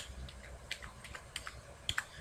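Several sharp, separate key presses on a computer keyboard, Alt and arrow keys, tapped at an uneven pace over a low murmur of room noise. A closely spaced pair of clicks comes near the end.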